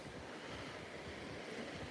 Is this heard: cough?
no